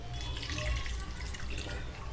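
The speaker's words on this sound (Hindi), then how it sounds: "अब इसमें हम पानी डाल देते हैं" Water pours into a pan of cooking tomato chaat, a soft, steady splashing and trickling that runs quietly for a couple of seconds.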